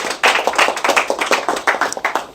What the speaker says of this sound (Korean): 우리 자축에 박수 한번 치면서 시작합니다.